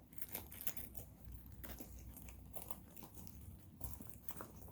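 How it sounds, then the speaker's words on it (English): Quiet clinking and clacking from the metal zippers of Doc Martens Twin Zip 1461 shoes flapping against each other, a few soft irregular taps over a faint rustling background. "you can hear the zippers kind of clack"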